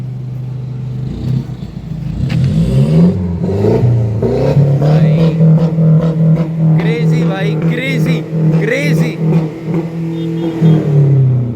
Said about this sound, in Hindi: हम बाहर जाते हैं या बार इसकी एग्जॉस्ट की आवाज़ सुनते हैं भाई।